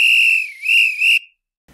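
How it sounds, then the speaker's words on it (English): A teacher's whistle in a story reading, one loud shrill blast that dips and rises twice before cutting off abruptly into silence. "No sooner had Harry finished speaking than Mrs. Carter blew her whistle."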